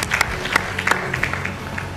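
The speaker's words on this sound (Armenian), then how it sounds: "ուզում եմ բարձր ծափարենք ժյուրի անդամներին" The studio audience at an X-Factor Armenia show claps for the jury members, a lively patter of distinct hand claps over a low, humming musical backing.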